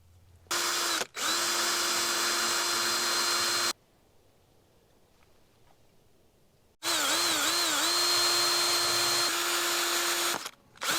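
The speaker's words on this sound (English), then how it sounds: "I'm going to drill through on this one" A power drill drills through a Jeep tailgate, whirring loudly in two long, steady runs separated by a quiet pause, with a brief stop and restart at the beginning.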